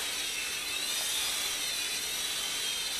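A World Tech Toys Mega Hauler remote-control toy helicopter hovers nearby with a steady, high-pitched electric whine from its small motor and rotor, constant and unbroken.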